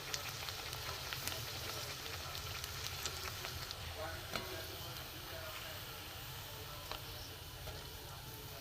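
Luchi, puris made from potato and semolina dough, fry in hot oil with a steady, soft, continuous sizzle and crackle, fairly quiet throughout and with no voices.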